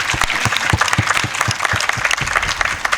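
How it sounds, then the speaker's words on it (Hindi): Audience clapping at a book launch, a steady burst of close, dense applause with sharp individual claps throughout and no talk over it. "ताली बजाएं, एक बार जोर से ताली बजाएं"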